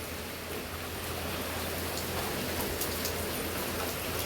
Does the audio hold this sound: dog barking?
no